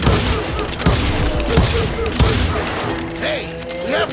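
Western shootout gunfire from Call of Juarez Gunslinger, a loud volley of overlapping close and distant shots with sharp cracks, shouting voices and game sounds mixed in.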